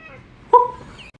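A pet cat named Cooter gives a single short meow-like call, starting with a sudden burst and trailing off into a faint, rising tail, heard close and alone over a quiet room.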